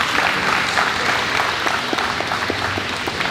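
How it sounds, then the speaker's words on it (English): An audience gives a round of applause for Quency Wiggins, a Colorado defensive end, with steady, moderately loud clapping and a few sharper individual claps standing out. "give them a round of applause"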